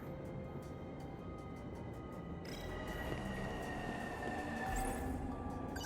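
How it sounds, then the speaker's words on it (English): A train pulls into a station platform in the video game 13 Sentinels: Aegis Rim, a steady rumbling roll with metallic wheel squeals and a brief clattering swell partway through. "Well, that's my train."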